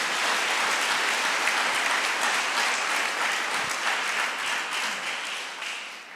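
A church congregation bursts into sustained, dense applause that fills the whole stretch at a steady level, tapering slightly toward the end, with no voices over it.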